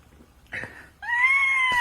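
A man imitates a cat's meow with his voice, giving one drawn-out, rising then falling meow, close and clear after a brief rustle, while he makes himself a drink at home.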